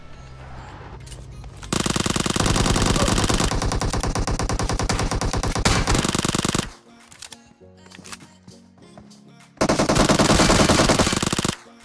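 Bursts of rapid automatic gunfire in a battle royale video game, loud sustained volleys with a brief quieter gap of scattered shots between them, no talking.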